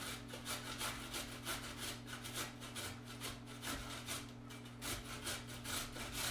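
Food rasped back and forth on a handheld kitchen grater in a steady rhythmic scraping, quick repeated strokes, close and fairly quiet with no talking.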